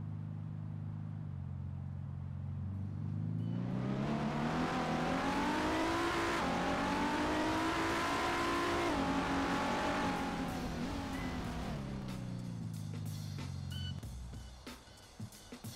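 A simulated Nissan GT-R Nismo engine in a Unity racing game revs up smoothly, its pitch climbing to a loud high-revving peak, holding, then falling back to a low idle, with no voices.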